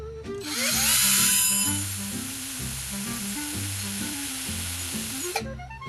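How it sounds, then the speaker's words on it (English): A power drill whines steadily for several seconds, boring into a PS4 console's casing and metal, close and loud with a shrill high-pitched edge before stopping. "I'm taking this fucking drill into this fucking PS4"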